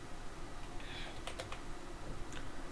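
Typing on a computer keyboard while writing Python code, a few quick faint key clicks in short clusters over steady low background noise.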